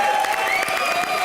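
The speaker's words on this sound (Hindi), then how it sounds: "हमारे सलमान यूसुफ खान के लिए जोरदार तालियां।" Applause from a studio audience at a Hindi comedy show, a dense steady patter of clapping under a sustained musical tone, continuous and fairly loud for a short burst.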